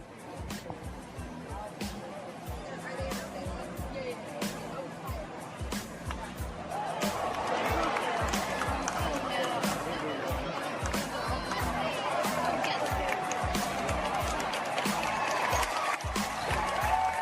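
Crowd noise at a Royals baseball game in Kauffman Stadium, from steady distant chatter swelling into a broader, louder roar of cheering that holds to the end, with a voice speaking over it.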